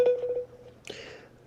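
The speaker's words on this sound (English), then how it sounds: "Okay, so that's how Instagram sounds. If you hear that little ringtone, that's what that is." An Instagram call ringtone plays: a quick series of short, even electronic tones, then a brighter chime-like burst that fades out, heard alone without talk.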